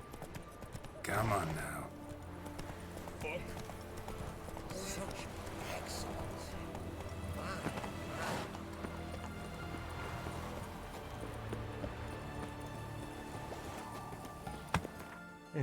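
Horse hooves clip-clop at a steady walking rhythm, fairly close, running under intermittent talk and background noise.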